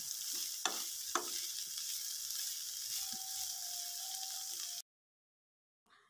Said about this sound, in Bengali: সেগুলো এখন পেঁয়াজ রসুনের সাথে ভেজে নিচ্ছি